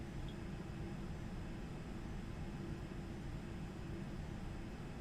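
Simulated aircraft rolling out in Microsoft Flight Simulator X, a steady broadband engine roar that stays constant and fairly faint throughout with no talking.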